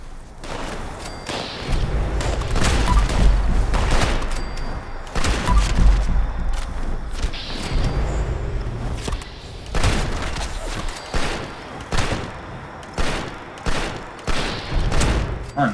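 Gunfire in the video game Fallout 76, loud repeated booming shots and impacts in irregular clusters, heavy and close throughout with no talking.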